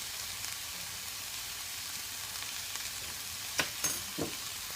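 Passata sauce simmers in a pan with a soft, steady sizzle, and a few brief spoon scrapes and clinks near the end as it is stirred; quiet and without talk.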